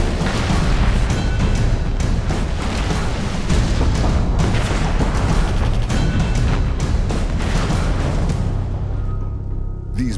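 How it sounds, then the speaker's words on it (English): Incoming artillery fire in the Operation Flashpoint: Red River war game set in Tajikistan: a loud, dense barrage of booming explosions and cracks rolls on continuously, then thins out into a lingering rumble at the end. "There's too much to be gained from deciphering the sounds of incoming fire."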